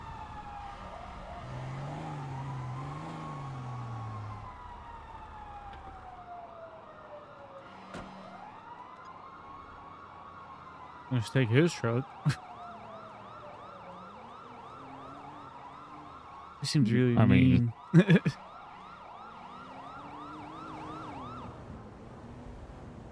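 Fire truck sirens in the GTA roleplay world wail in long rising and falling sweeps over a low engine hum, fairly close, while people briefly talk over them in two short moments.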